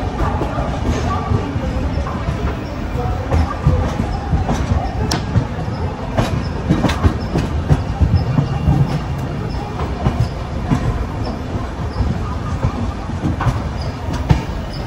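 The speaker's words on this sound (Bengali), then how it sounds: "ট্রেন তো ছেড়ে দিয়েছে বিশাখাপত্তনম থেকে" A train pulls out of Visakhapatnam on the line toward Araku. It gives a loud, continuous rumble with rhythmic clickety-clack from the wheels on the rail joints and occasional sharp metallic clicks and squeaks.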